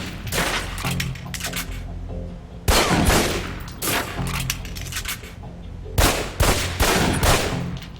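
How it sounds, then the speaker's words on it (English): Pistol shots fired at a target on a range in the video game Alpha Protocol, with three loud bursts of gunfire spaced a few seconds apart, each trailing into a ringing reverberant tail over a low background hum. "Equip the pistol, then aim down range and take some shots at the target."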